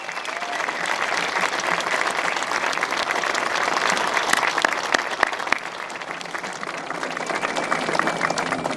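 At the Gordie Howe International Bridge opening ceremony, a large crowd gives the Howe family long, dense applause: a steady wash of many hands clapping with a few sharper claps standing out, continuing throughout.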